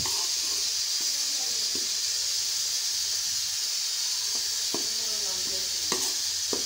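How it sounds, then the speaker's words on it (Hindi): Semolina roasting in ghee over a low flame, stirred continuously, giving a constant soft sizzle and hiss with occasional light spoon taps against the pan. "हल्की आंच पे आपने इसको भूनना है, इसका कलर चेंज हो जाए इतना हम इसको भूनेंगे"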